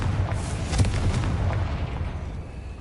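A Confringo spell detonates in Hogwarts Legacy, giving a heavy, rumbling explosion that swells and then slowly fades over a few seconds.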